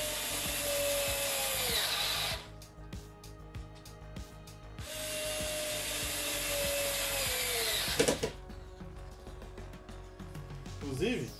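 Topshak TS-ESD1 4V cordless screwdriver driving screws into wood, two sustained whirring runs each ending in a falling pitch, with a ratcheting clatter between them and near the end, all close up.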